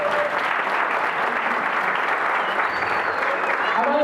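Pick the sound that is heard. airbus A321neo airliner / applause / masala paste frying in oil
applause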